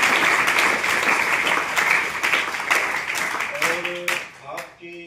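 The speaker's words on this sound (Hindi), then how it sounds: "आप उनका भी जोरदार तालियों से स्वागत करें" Enthusiastic applause from an audience at an Arya Samaj motivational speech event, dense steady clapping that fades near the end as a voice begins to speak.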